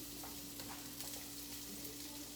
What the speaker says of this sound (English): I don't know if you can hear it sizzling.